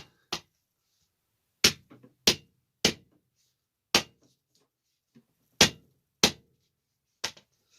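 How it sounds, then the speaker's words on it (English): Sharp, isolated knocks of wooden pieces of a DIY arcade game kit being whacked together, about nine dry impacts at irregular intervals in a quiet room, close and fairly loud with silence between. "And just a couple more whacks."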